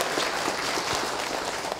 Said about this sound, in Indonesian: Masya Allah, tepuk tangan dong.